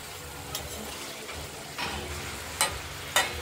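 Prawns rubbed with salt and turmeric fry lightly in a kadai: a quiet, steady sizzle, with a few sharper spits and crackles toward the end.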